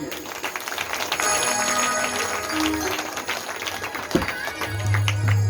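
An audience at a Hindu Bhagavat Katha religious discourse festival claps loudly in a sustained, crackling burst, with a low tone and a brief knock partway through.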